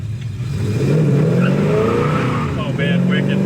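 A 1969 Chevelle V8 accelerating hard, its loud, close engine note climbing steadily in pitch as it pulls through a single gear, with a brief dip and then another rise.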